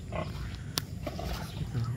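Pigs lounging in a rainwater wallow on a farm make low grunts and snorts close by, with a steady background hum and one brief sharp click partway through.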